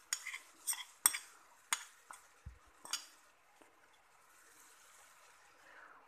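A spoon stirs a spiced black chickpea kachori stuffing in a pan on low heat. Close, quiet scrapes and clinks come in an irregular series, then fade to a faint background.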